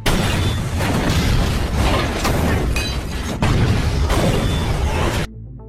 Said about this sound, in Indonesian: tanpa disangka, mobil mereka meledak dan akhirnya tewas terbakar.